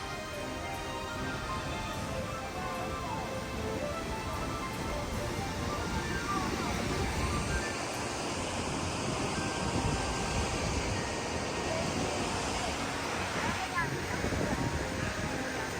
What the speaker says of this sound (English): this is Bridal Veil Falls, the tallest waterfall in Colorado.